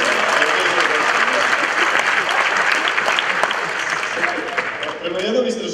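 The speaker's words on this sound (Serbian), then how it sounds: "Tako da hvala sam ovom koji prvi počeo da aplaudira." An audience at a live stand-up comedy show claps in a dense, sustained burst of applause that stays loud throughout, with a faint voice under it near the end.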